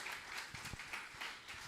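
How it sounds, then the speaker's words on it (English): Faint applause from an audience after a class at a Sunday love feast, a soft, steady patter of many hands heard from a distance. "So please, by a loud round of applause."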